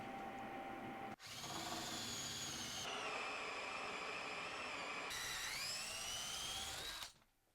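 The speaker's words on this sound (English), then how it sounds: "So what I'm going to do is drill down all the way through" A power drill whines steadily as it bores down through wood for dowel holes, briefly stopping and shifting pitch between runs before winding down.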